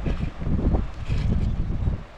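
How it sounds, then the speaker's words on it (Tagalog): Gusty wind buffeting the microphone in low rumbling surges, loud and close, with no voices. "Lamig, grabe. Hangin to."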